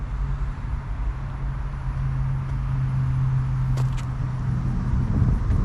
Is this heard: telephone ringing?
no